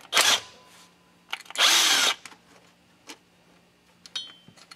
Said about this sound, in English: take this bolt down